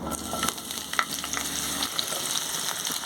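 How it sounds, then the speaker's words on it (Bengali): Chopped onion fries in hot oil with spices, giving a steady, close sizzle that runs throughout with a few scraping stir clicks near the start and middle. "এবার পেঁয়াজটাকে একটু হালকা বাদামি করে আগে ভেজে নেব।"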